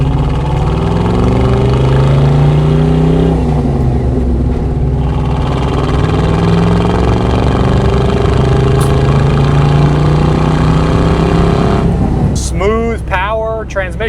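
A manual-transmission truck accelerates steadily, its engine droning and rising in pitch through successive gear shifts, loud and close, with a short burst of other sound near the end.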